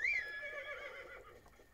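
A horse in the video game Breath of the Wild lets out a single whinny at a stable. It starts high and falls away into a fading, quiet neigh with no talking over it.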